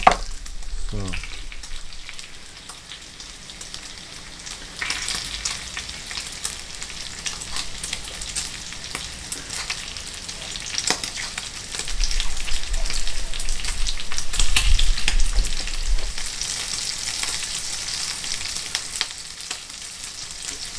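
Bacon sizzling steadily in a frying pan, a continuous close crackle that swells louder in places, with no talk over it.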